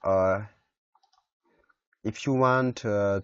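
A computer mouse gives a few soft, quick clicks during a short pause between bursts of a person talking while using video editing software.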